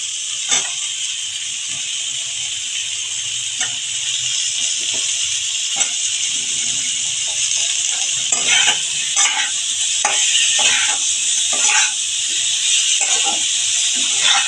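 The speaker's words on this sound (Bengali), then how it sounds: "এখন আমি আলুগুলো দিয়ে দিচ্ছি" Potatoes hiss and sizzle loudly in a hot pan with winter vegetables such as cauliflower and prawns, steady frying under repeated scraping stirs and utensil clinks, close up without speech.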